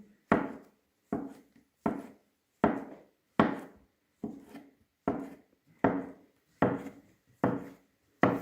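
Knife slicing porcini mushrooms on a wooden cutting board, about a dozen crisp, evenly spaced chops with quick decays, close and fairly quiet with silence between strokes.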